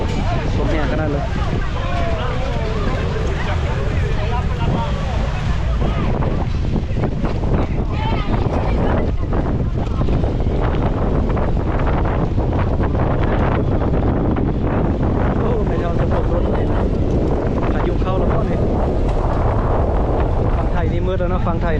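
Strong gusts buffet the microphone outdoors at a riverside night-market roundabout in Vientiane, a loud continuous rumbling roar with someone talking through much of it.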